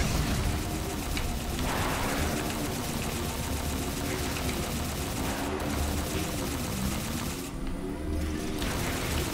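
Rapid automatic gunfire from a Halo 4 firefight rattles on almost without pause, loud and close, with brief gaps and heavy bursts throughout.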